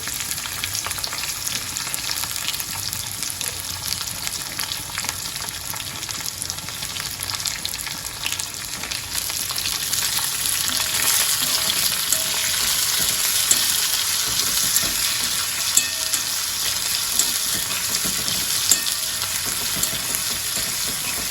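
Onions and green chillies sizzle in a pan with browned potatoes for veg pulao, a continuous close frying hiss with occasional stirring scrapes, steady and loud with no talking.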